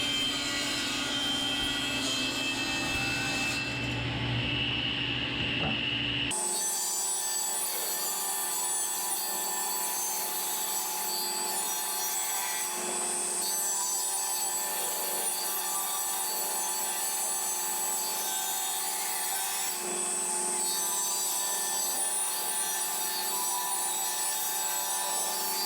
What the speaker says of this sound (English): So I started by cutting 45-degree angles off of each corner.